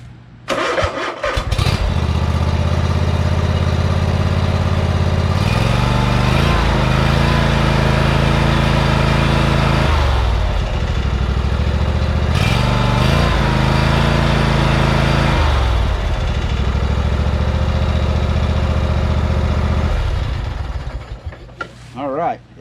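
A Gravely zero-turn lawn mower engine cranks and catches after an engine swap, then runs loud and close with a steady roar that rises and dips a few times before cutting out near the end.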